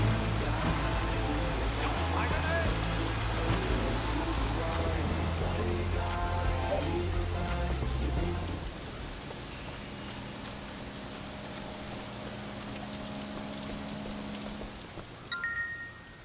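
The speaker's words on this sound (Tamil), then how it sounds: "இந்த மழை வேறையா?" Rain in the video game Sleeping Dogs pours as a steady, dense wash of noise, with game sounds and a low hum underneath and a brief tinkle near the end.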